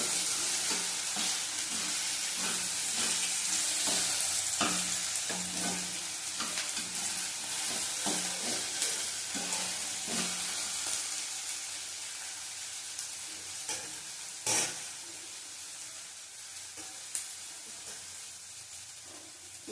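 Whole garlic cloves fry in a hot pan with a bright, busy sizzle and spatter, strongest at first and gradually settling, with occasional sharp pops and stirring clatter.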